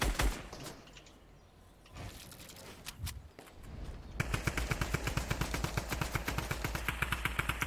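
Rapid automatic gunfire from a Fortnite match, scattered shots at first and then a dense, steady burst of rattling rounds, loud and close, with no talk.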